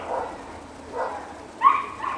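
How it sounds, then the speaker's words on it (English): A dog in a backyard garden barks in three short separate bursts, moderately close, the last one the sharpest and loudest, with no talking over it. "And there goes the dog again."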